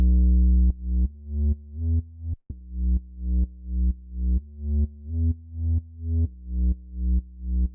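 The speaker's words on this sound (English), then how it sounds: "You can sidechain it to the kick like we did the chords" Deep 808 sub bass in an EDM track made in Ableton Live, sidechained to the kick so each low note ducks and swells back in a steady pumping rhythm, loud and alone with no talk.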